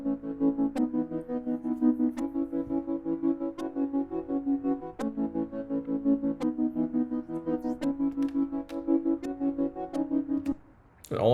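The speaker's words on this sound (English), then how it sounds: "So I built this little 80s fantasy delay tremolo thing." A synth patch called 80s Fantasy with tremolo and pan effects plays sustained harmonic chords that pulse rapidly in volume, with sharp clicks marking chord changes, running for about eleven seconds before a brief dip at the end.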